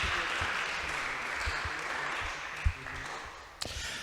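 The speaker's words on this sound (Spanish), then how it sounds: "Demos un aplauso al Señor" A church congregation at a youth gathering claps for the Lord, a soft, fairly distant wash of applause that fades gradually, broken near the end by a couple of louder single knocks.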